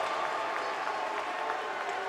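Ice hockey arena crowd at a men's college semi-final cheering and applauding in a steady, dense roar with scattered claps and whistles, loud and continuous throughout.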